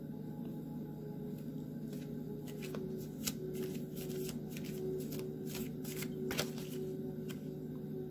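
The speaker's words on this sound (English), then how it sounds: "This is how I'm shuffling." Playing cards are shuffled by hand in quick, crisp riffles and snaps, close and fairly quiet, over a low steady hum.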